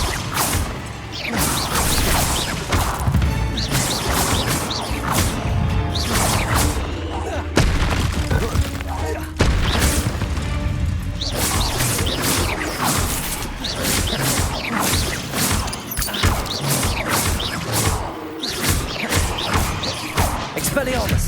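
An Incendio fire spell cast during combat in the video game Hogwarts Legacy, loud booms, crashes and whooshes in dense bursts with brief pauses, under game music and character voices.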